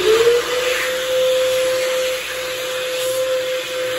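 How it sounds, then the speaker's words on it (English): A McDonald's World Dryer electric hand dryer blasts air with a steady roar and a high whine, holding constant throughout. "this is what the McDonald's World Dryer hand dryer sounds like"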